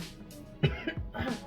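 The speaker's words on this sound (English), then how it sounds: "I cough sometimes." A person coughs a few times in quick succession, fairly close and moderately loud, over a quiet indoor background.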